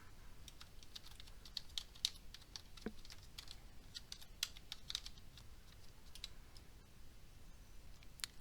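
Typing a text prompt on a computer keyboard in Illustrator, a quick run of light, close key clicks in an uneven patter with brief pauses, heard alone without talk.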